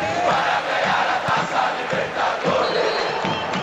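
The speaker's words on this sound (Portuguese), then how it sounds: "A torcida chia" Stadium crowd in the PES 6 football game roaring and jeering at a Cruzeiro versus Palmeiras match, a loud, dense, continuous wash of many voices swelling and dipping throughout.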